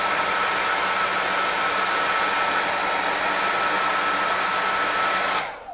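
A hair dryer blows steadily on a Jamberry nail wrap, a loud continuous rushing whoosh with a faint tonal hum, running unbroken for several seconds before shutting off at the end.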